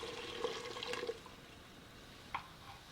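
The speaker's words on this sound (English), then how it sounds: "So now it's all in the pot. Let's add some water." Water pours into a pot of chicken noodle soup in a home kitchen, a short, faint splash and trickle with a second brief gush near the end.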